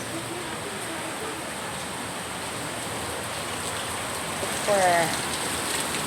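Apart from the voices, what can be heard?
heavy rain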